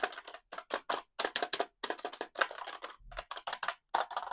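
Rapid clicky keystrokes on a computer keyboard, up close, coming in quick uneven bursts with short pauses between.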